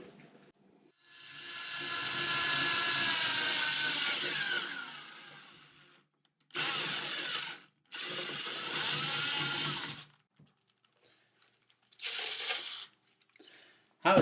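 A power drill bores holes through vinyl records into a wood backing, running in several bursts: one long run, two shorter ones, then a brief final burst, loud and close with pauses between.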